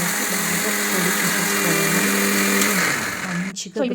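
A mixer grinder jar whirring through roasted coriander seeds and cumin for curry leaf powder, a loud, steady motor drone with a rattling, gritty churn that cuts off near the end.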